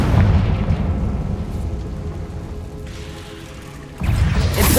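In Hogwarts Legacy, a Confringo fire spell blasts with a heavy, booming explosive burst and rumbling decay, followed by a second loud impact near the end.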